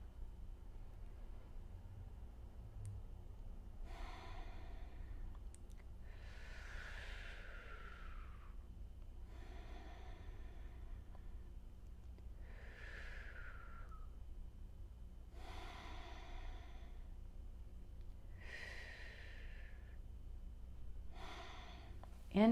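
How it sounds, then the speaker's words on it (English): Someone in a yoga session doing cooling breath: about six slow, audible breaths with long hissing inhales and breathy exhales, evenly spaced over soft background noise, close and fairly quiet. "3 rounds of cooling breath."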